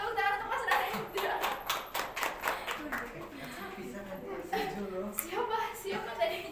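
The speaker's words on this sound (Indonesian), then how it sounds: "Tepuk tangan untuk Mas Narendra" Brief clapping from a small classroom group during a micro-teaching lesson, a few scattered claps that quickly give way to children's chatter and a teacher's voice.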